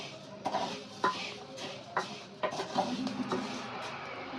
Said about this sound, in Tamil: அதால் நாங்கள் வந்து இப்போ பயரை வறுத்து கொண்டு இருப்போம்.